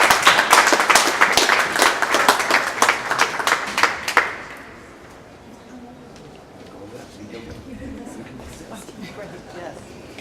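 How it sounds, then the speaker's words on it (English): Crowd of healthcare advocates clapping at a gathering, loud and close for about four seconds before cutting off abruptly, leaving quiet room tone with faint murmuring voices. "give them a round of applause"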